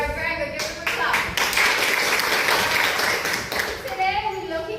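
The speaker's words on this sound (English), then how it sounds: "Give it a clap." A classroom of children breaks into clapping, a dense burst of applause lasting a few seconds with voices around it.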